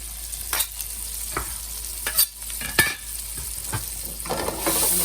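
Tomatoes and garlic fry in a pan for caprese chicken, a soft continuous sizzle punctuated by occasional sharp scrapes and knocks of stirring, close and without voices.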